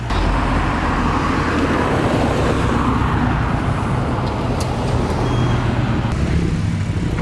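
A BMW F80 M3 or M4 drives past at a car meet, heard as steady loud road and engine noise that holds throughout with no clear rise or fall, no talk.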